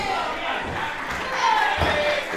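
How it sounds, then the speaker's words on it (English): A live crowd at an IWN Z Force women's wrestling show roars and shouts continuously at a match between Aleah James and Kira Chimera, loud and dense with a couple of thuds underneath. "The crowd are really behind Aleah here."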